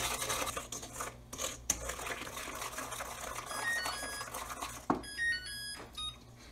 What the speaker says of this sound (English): we're whisking it constantly